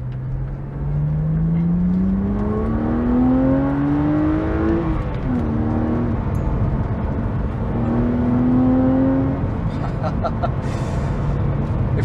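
A BMW Z4 Coupe E86 3.0si engine climbs steadily through the revs, then dips and rises again in a heel-and-toe downshift, heard loud from inside the car over road and cabin noise.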